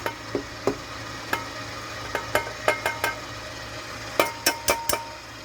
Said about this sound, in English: now we're going to add our flour to our mix